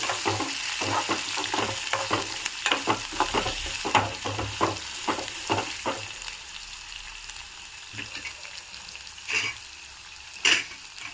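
Oil crackles and sizzles in a pan as onion, dried red chillies and curry leaves hit it, with repeated stirring scrapes in an uneven rhythm, close up.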